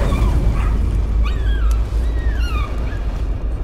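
A dog in the game Layers of Fear yips, barks and whimpers close up in several short, high cries over a constant low droning background.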